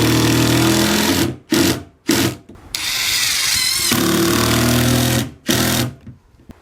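An AEG impact driver drives screws in bursts of loud, rapid mechanical hammering, several short runs and one long sustained run, with brief pauses between.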